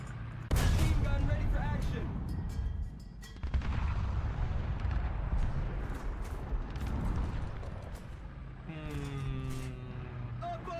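Rapid machine-gun bursts and heavy booms from a tank in a video game, loud and close, with engine rumble underneath and a player talking over the gunfire.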